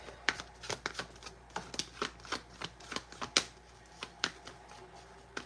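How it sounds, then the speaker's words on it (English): Tarot cards being shuffled and pulled, a quick run of crisp riffling snaps and slaps at an irregular rhythm, close and fairly quiet, with no talking. "Let's just pull one more card."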